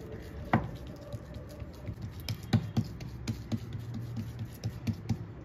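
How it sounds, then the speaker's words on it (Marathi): Beetroot thalipeeth dough is patted flat by hand with a little water, giving a series of soft, damp slaps and taps in an irregular rhythm, close and fairly quiet, with no speech. "आपण थोडंसं पाणी साईडनं लावून आपण हे थापून घ्यायचं"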